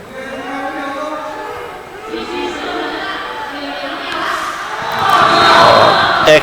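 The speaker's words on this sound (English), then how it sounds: "Crowd really enjoying this game. Really cheering on the Commandos" A crowd cheers and shouts at a canoe polo super league game, a sustained roar of voices that swells louder toward the end, with a commentator talking over it.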